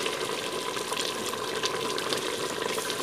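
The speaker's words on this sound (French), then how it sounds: "vous pouvez ajouter environ un verre d'eau" About a glass of water poured into a pan of simmering vegetables for chakhchouka, a steady loud rushing hiss of liquid and sizzle that stays even throughout, with no voices.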